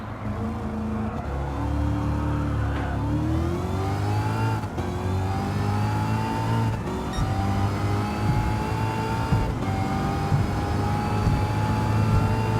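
Race car with a wheelbase too short for its horsepower, running on race tires, driving a lap: a loud, close engine drone that rises and falls through gear changes, with no talk over it.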